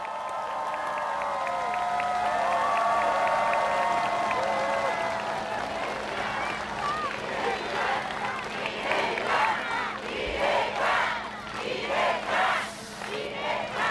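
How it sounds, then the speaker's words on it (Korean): A rally crowd for a Democratic Party candidate's speech in Sejong claps and cheers, the noise swelling from a loud roar of voices into rhythmic clapping and shouts that rise and fall, with some talk mixed in. "여러분 박수 부탁드립니다."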